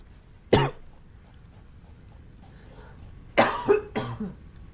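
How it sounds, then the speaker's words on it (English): Several sharp, dry coughs from a person with a dry throat: a single hard cough near the start, then a tight cluster of three or four after a long quiet pause. "Sorry that I keep coughing."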